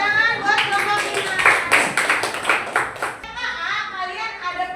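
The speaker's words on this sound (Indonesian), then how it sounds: "Tepuk tangan buat kelompok 5." A classroom of students claps for group 5 in a training session on AI ethics, a burst of fast, dense clapping that fades into children's voices talking near the close.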